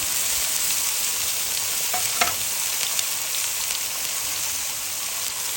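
Tomatoes and onions sizzle on a Blackstone flat-top griddle, a steady close hiss with a few brief scraping clicks, no voices.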